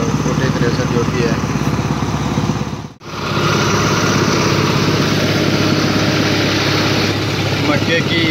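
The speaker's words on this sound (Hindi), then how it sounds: "अभी चल रहा है 733 स्वराज, जो कि 33 HP के श्रेणी में आता है।" A Swaraj 733 FE 33 HP tractor drives a mini chaff cutter chopping maize, giving a loud, steady engine drone with mechanical clatter that cuts out for an instant near the middle before resuming.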